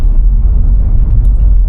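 A car engine labors uphill in first gear on a steep mountain road climb, a loud, deep, continuous rumble heard from the cabin with no voices.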